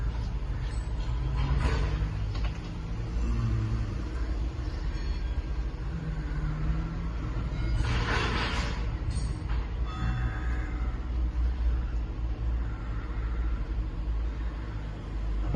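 Cars pass on a busy road, a continuous low traffic rumble with a few vehicles swelling louder as they go by nearby, with faint voices in the background.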